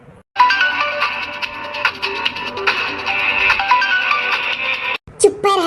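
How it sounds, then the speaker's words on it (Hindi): A phone ringtone plays as a steady, loud electronic melody with a rhythmic pulse for about five seconds, then cuts off abruptly before voices follow. "देखिए किकर फोन हुआ"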